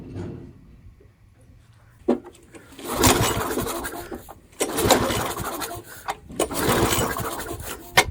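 An old lawnmower's pull-start engine sputters and fails to catch, with bursts of cranking and rough, choking engine noise separated by short pauses, loud and close.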